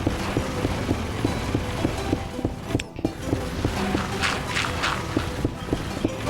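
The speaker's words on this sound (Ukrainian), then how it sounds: "І ось ми зараз пробуримо аж до бедрока" A modded drill in a video game bores down toward bedrock with a steady throbbing hum and regular rhythmic thumps, broken by a brief pause midway and some scattered crackling bursts near the end.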